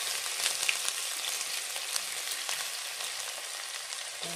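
Cumin and ginger frying in hot oil for aloo sabzi, a dense, steady crackling sizzle close up that fills the whole stretch without pause, with no voices.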